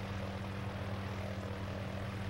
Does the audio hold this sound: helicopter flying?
yes